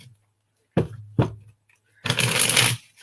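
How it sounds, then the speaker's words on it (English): Playing cards are shuffled by hand in a few quick bursts: two short riffles, a pause, then a longer, louder cascading riffle, heard close and alone without talk. "Let me shuffle a couple more times here."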